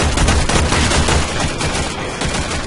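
Dense rapid gunfire in the video game Warframe, a continuous loud burst of overlapping shots with no pauses across the few seconds.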